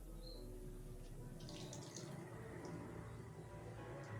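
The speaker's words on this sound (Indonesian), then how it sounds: "Siram bagian tengah juga." Water poured from above onto a potted begonia after repotting, a steady low splashing and trickling into the soil that runs close and continuous, with brief higher splashes midway.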